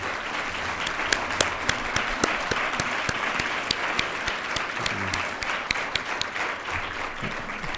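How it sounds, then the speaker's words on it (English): A conference audience at the opening of the CCNA 2024 Partners Forum and Science Days applauds research executives standing up, with sustained clapping of many hands and a few sharp individual claps standing out. "applause?"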